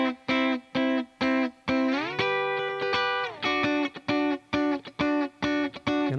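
Electric guitar part strummed through distortion in choppy bursts, with a sustained ringing chord in the middle where the strings are not fully muted; loud and close, no talking.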